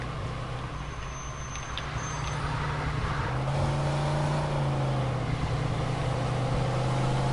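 A car driving in the Mafia 2 video game, its steady engine drone loud and continuous throughout, with the pitch rising slightly partway through as the vehicle gains a little speed.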